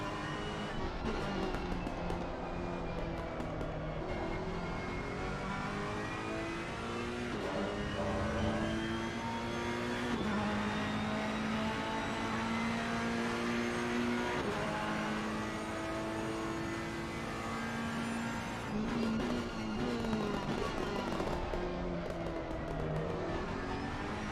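A GT3 race car engine drones continuously from onboard during a lap at the Hungaroring, rising and falling in pitch through gear changes and braking, loud and steady throughout with no talk.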